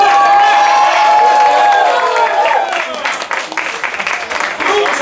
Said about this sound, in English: Put your hands together for Lucas Arnold.